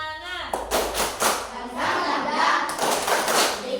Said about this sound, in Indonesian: Ya, tepuk semangat dulu.